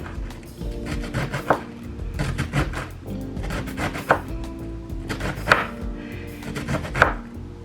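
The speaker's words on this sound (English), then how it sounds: "you want to thinly slice this up" A knife thinly slicing napa cabbage on a cutting board for dumplings, steady rapid chopping strokes in repeated runs with sharper knocks at intervals, close and clear with no talking.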